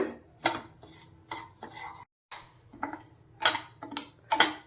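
Semolina roasting in ghee in a pan gives off soft, steady scraping and clinking as a spoon stirs it in irregular strokes, close and fairly quiet, with a brief silent gap midway.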